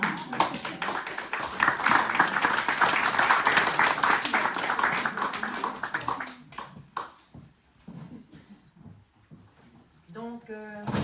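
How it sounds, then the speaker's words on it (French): An audience at a gathering claps for Amandine, dense applause lasting about six seconds before thinning to scattered claps, with a voice speaking near the end. "Et un des égards est d'applaudir Amandine."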